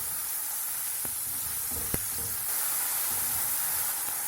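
Sliced onions sizzle steadily in hot oil while frying toward brown, a continuous close hiss with a few faint stirring clicks and no talk.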